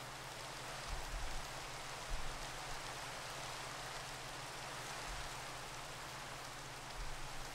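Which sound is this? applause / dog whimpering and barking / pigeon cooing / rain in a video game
rain in a video game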